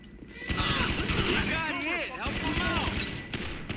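Shotgun blasts from GTA 5 Online during a farm raid, a few heavy booming shots with mechanical pump-like clatter, mixed under game music, effects and someone talking over the action.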